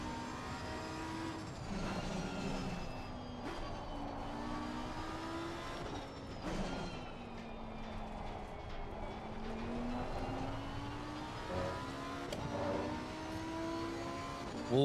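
A high-pitched V10 engine of a Lamborghini Huracan GT3 Evo 2 race car in a racing video game revs and shifts through gears continuously, its whine rising and falling, steady and moderately loud with no talk.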